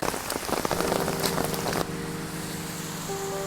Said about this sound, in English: no one's gonna be walking around in the rain right now like I am